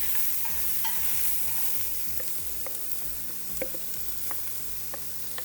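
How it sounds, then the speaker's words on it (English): Chopped garden vegetables sizzle and fry in a pan, a steady close crackle with repeated scraping stirs and small clinks of a utensil, no talking. "we're gonna add all the delicious vegetables we chopped earlier. I love the sound of that sizzle."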